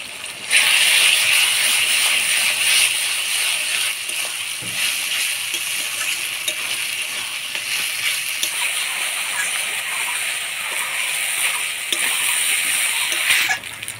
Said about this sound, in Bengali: মশলাটা ভালো করে নাড়াচাড়া করে নিলাম।